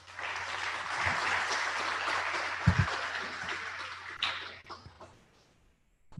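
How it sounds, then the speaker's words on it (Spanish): Audience applause at a technology and energy innovation conference, a steady wash of many hands clapping that swells, holds for several seconds, then thins out and fades near the end. "Un aplauso, por favor."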